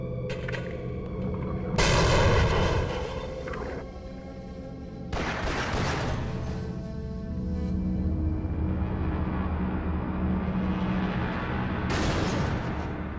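Explosions and gunfire in the video game Half-Life: Source, with several loud booming blasts and bursts of shots separated by rumbling, noisy stretches, and no talking.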